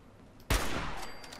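A single sharp, loud burst of gunfire erupts in the Fallout 4 video game, then trails off into a long echoing decay.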